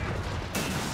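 Friendly-fire gunfire in a World War II strategy game battle between an armored battlegroup and the DAK: a dense, loud burst of shots filling the whole second, sharpening partway through.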